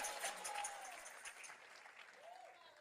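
A church congregation applauds during a sermon, steady faint clapping with a voice rising briefly over it.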